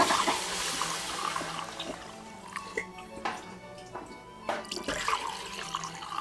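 One and a half litres of broth pour into a soup pot for a Saint Germain pea soup, a splashing liquid stream with drips and sloshes, close and moderately loud, alongside some kitchen clatter.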